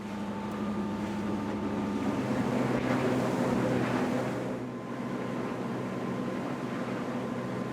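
A 2015 Vanquish 24 runabout with an inboard engine cruising at speed, its steady engine drone mixed with rushing water and wind buffeting, loud and continuous throughout, no talking.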